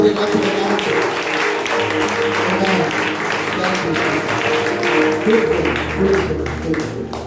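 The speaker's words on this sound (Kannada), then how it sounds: "ಅವರ ಚಪ್ಪಾಳೆಯನ್ನು ತಟ್ಟೋಣ." A congregation at a Sunday church service clapping steadily together, a dense sustained patter of applause with voices and music murmuring underneath.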